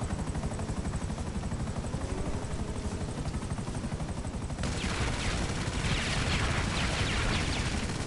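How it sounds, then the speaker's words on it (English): An armed helicopter in the game GTA on PS4, a constant thudding rotor drone with dense rapid gunfire layered over it, growing harsher and louder partway through. "Never be in front of a helicopter. Especially when it's got weapons."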